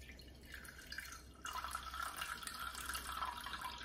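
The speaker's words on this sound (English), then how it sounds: "Got a glass jar here, and I'm just gonna pour, this is all our gorgeous buttermilk." Buttermilk from homemade Thermomix butter pours through a strainer into a glass jar in a continuous close splashing trickle that thickens and grows louder partway through.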